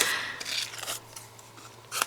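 Scissors snipping through paper for a handmade greeting card, a few short close cutting strokes separated by brief pauses, with no talking.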